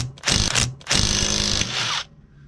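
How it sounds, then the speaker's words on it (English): An impact gun rattles in two loud bursts, the second longer, breaking out light-duty bolts on an irrigation pivot gearbox. It sounds close up. "See how easy that is, especially with today's torquey little impact guns."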